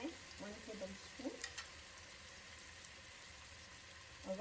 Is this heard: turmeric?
yes